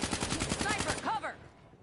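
Gunfire in a PS4 shooter video game, with a sniper rifle shot among it: a dense rapid burst of shots for about a second, then a brief sharp report that fades into near silence.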